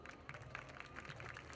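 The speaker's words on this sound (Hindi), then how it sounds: "एक बार जोरदार तालियां डॉक्टर विनोद जी के लिए।" Applause and clapping from an audience at the inauguration of a Bollywood-style festival in Mumbai, a dense, steady wash of claps filling the short stretch without pause.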